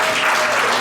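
An audience at a stand-up comedy show bursts into dense, loud applause, a short sustained wash of many hands clapping at once.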